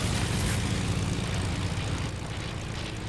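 An airplane engine in a video game drones loudly and continuously as a dense, steady roar that eases slightly toward the end.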